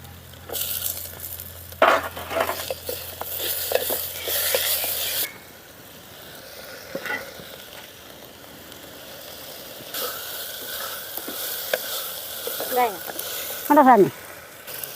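Crushed ginger and garlic sizzle in a hot pan while being stirred, a steady soft hiss with scrape and clatter of a spoon, and brief clinks near the end.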